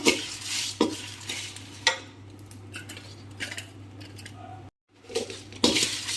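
Spices and a small piece of asafoetida dry roast in a pan while a spoon stirs and scrapes them. Close clinks and scuffs repeat over a low hum, with a brief moment of silence near the end.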